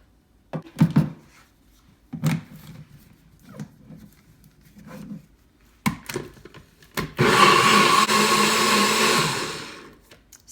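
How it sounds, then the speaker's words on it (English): A countertop blender pulses nuts for butter chicken sauce, with several short rattling bursts and knocks followed by a loud sustained whirring run of about three seconds that then cuts off. "All those nuts have been blended"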